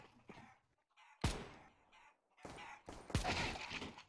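Chickens spawning in a competitive warmup match of a shooter video game give sharp squawking, crowing-like bursts in two loud clusters with quieter gaps between.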